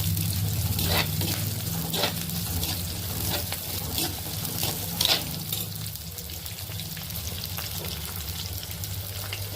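Mango and tomato sautéing in a pan for a fish curry, a steady close sizzle and frying hiss with occasional stirring scrapes and light clinks throughout, no voices.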